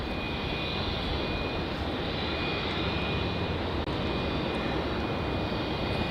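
A Qantas jet airliner takes off at Melbourne Airport, its engines a constant, distant, broad roar that stays steady throughout.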